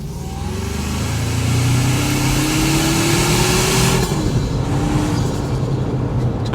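A 2025 Toyota 4Runner Trailhunter engine heard from the cabin with a window cracked open, its steady drone rising in pitch as it accelerates, then easing off as the throttle lifts, over road and wind noise.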